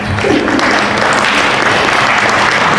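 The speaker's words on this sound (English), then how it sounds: "Hey, y'all can clap." Loud, steady applause from a school awards assembly audience, cheering for girls' fall sports award recipients, filling the whole stretch with dense continuous clapping.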